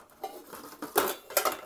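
Three nested metal cooking pots from a vintage Polish Wisla 22 alcohol spirit-stove kit clink and clatter against each other in a few sharp, close knocks, with no talking.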